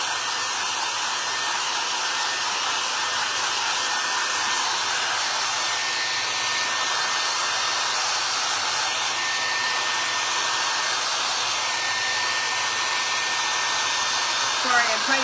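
A hair dryer runs steadily at close range, drying craft cotton batting, with a continuous loud whooshing blow that holds evenly throughout, and no talk over it.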